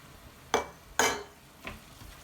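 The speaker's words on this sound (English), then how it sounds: "And now it's time to start adding the stock. Just add a bit at a time because we need to keep stirring." Stock ladled into a sofrito pan during stirring, two sharp hissing splashes in quick succession followed by a fainter third, over a quiet background.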